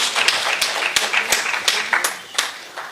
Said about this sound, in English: So I think Mr. Philly Suso deserves a round of applause.